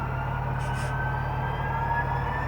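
A Chessie System GP40-2 model locomotive with a TCS WowSound decoder notches up its simulated diesel engine, giving a steady droning hum with layered harmonics that holds evenly, heard alone and close.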